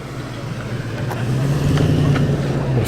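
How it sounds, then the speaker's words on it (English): A mid-1980s V8 car engine burbles steadily nearby at a car show, its low idle rumble thickening slightly as it runs on, with no talking over it. "The Burbly V8 there from the mid-1980s."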